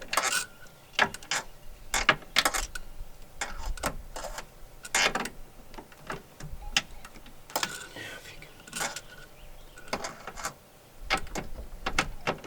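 A ratcheting wrench works on bolts during a 2006 Jeep Wrangler TJ dash replacement in a garage, giving bursts of sharp clicks at an uneven pace, close by, with quiet pauses between.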